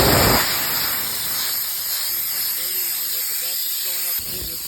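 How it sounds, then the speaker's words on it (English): Compressed air blasts through the air filter of a Kioti CK2610 tractor as a loud hissing rush that begins strongly and then continues more quietly, with a person talking over it. "I decided to blow out my air filter while we're at it"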